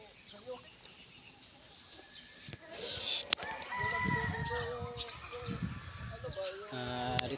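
Several gamecocks crow at different distances, overlapping calls rising over a restless background of clucking from many fighting chickens and someone talking.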